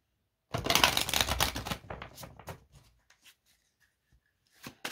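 Three cards drawn and shuffled from an angel oracle deck, a dense burst of papery flicking and slapping followed by a few sparse, quieter card taps close by, with no talking.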